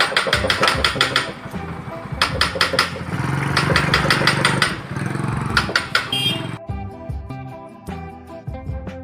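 A rebuilt TVS XL100 moped engine runs close by, its busy mechanical chatter rising and falling in uneven bursts before settling lower toward the end, with no talk over it.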